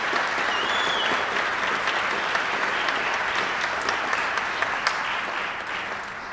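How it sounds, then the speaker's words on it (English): An audience at a Hall of Fame induction dinner applauds steadily for several seconds, dense clapping that fills the room before tapering off slightly at the end. "I'd actually ask you to give them a little bit of applause"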